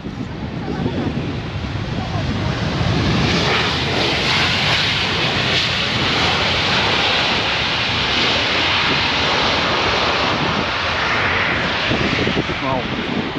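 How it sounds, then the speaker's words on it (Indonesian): A jet airplane passes low overhead near an airport, a loud sustained roar with rushing, wind-like noise that swells and holds for many seconds and drowns out the surroundings. "Ternyata suara jet tuh kayak begitu, Mabret."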